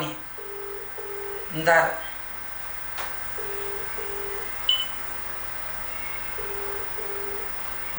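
Phone call failing to connect, with repeated short, evenly spaced tone pulses running through the background and a brief burst of dialing tones near the start, under a quiet voice.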